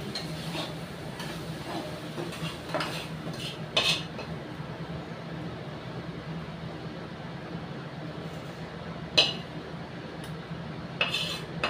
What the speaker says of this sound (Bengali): দেখো শাক ভাজাটা নামিয়ে নিচ্ছি